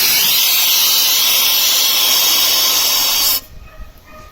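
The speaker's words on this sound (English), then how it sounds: "we're going to do a brake test now using the rearmost air cock on the train" A loud, steady blast of air hisses from the rearmost air cock on the front of a locomotive during a train brake test, then cuts off abruptly, leaving quieter background noise.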